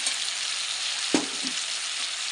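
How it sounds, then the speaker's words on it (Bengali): Constant hiss and sizzle of ginger paste, cumin and green chilli paste frying in oil in a pan, with a single sharp spoon knock against the pan partway through. "এখন আর একটু কষিয়ে নেব"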